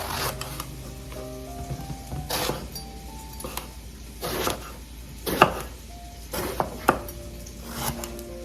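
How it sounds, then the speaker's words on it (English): Knife chopping eggplant into pieces on a cutting board for frying, a series of irregular close knocks spread through the clip, some sharper than others, over faint background kitchen noise. "Eggplant, I just need to fry this, so let's cut it into this size."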